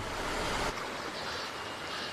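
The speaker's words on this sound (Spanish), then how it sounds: "La Tierra forma equipo con el agua del deshielo que se precipita valle abajo." Spring snowmelt water rushes down a mountain valley in a dense, steady roaring wash with no pauses, loud and close, with no voices.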